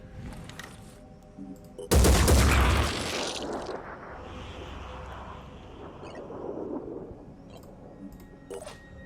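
A loud burst of gunfire rings out in the turn-based strategy game Phoenix Point, a sharp volley followed by a decaying rumble and mechanical clatter, then quieter game ambience with faint clicks.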